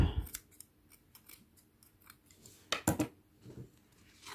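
Scissors snip through acrylic yarn while crocheting a cat-ear headband, several crisp close cuts and faint clicks spread over a few seconds, with a louder pair of snips near the end.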